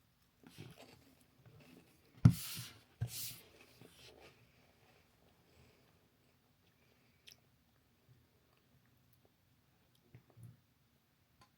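Crunchy bites and chewing of Korean strawberry-flavoured puffed chips, a few sharp close crunches early on followed by quieter, sparse chewing sounds in an otherwise quiet room.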